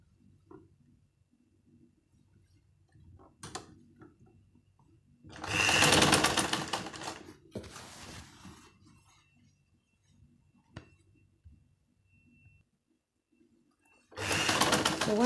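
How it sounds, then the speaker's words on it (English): Domestic sewing machine stitching fabric for underwear on a bubu gown, running in two loud steady bursts with quiet handling of cloth and small clicks between them. "then I'll sew."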